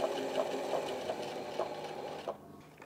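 Sewing machine running steadily as it stitches a straight seam line for a back pleat, a continuous close mechanical whir with a rhythmic needle pulse, slowing and stopping near the end.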